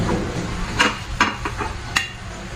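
A child washing dishes by hand: a few light clinks and knocks of plates against each other over a soft watery background, close by.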